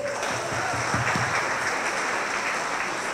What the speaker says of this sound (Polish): Brawa dla tych, którzy się odważyli przy tym poświęcić swój czas i siłę.